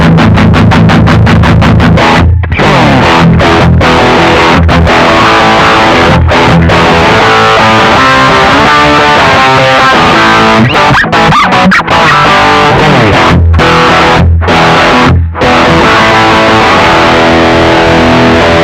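Electric guitar driven hard through a VOX Valvenergy Copperhead Drive tube preamp pedal, loud and heavily distorted, a dense continuous riff with brief choppy stops and no talking.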